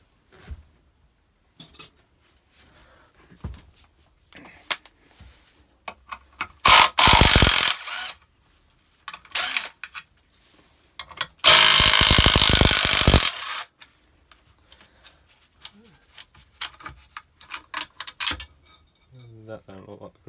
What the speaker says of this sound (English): So next we're going to start by taking off this, which is three, I believe they're 15mm bolts,